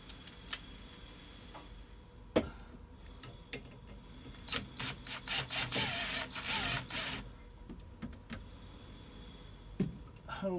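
A ratchet with an 8mm socket loosens a hose clamp on a school bus engine, making bursts of quick, faint clicks with pauses in between, close up in a quiet space.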